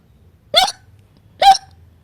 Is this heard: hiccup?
yes